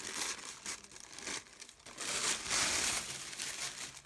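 Tissue paper being cut to length for covering a window rustles and crinkles in uneven bursts, close and fairly quiet, with brief pauses between handling.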